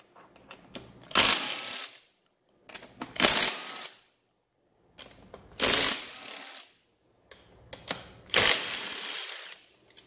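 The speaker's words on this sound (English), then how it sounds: "Got my drill." Bosch power drill unscrewing fasteners while a Nissan Leaf battery pack is taken apart: four bursts of whirring with ratcheting clicks, separated by short pauses, close and fairly loud, with no talk.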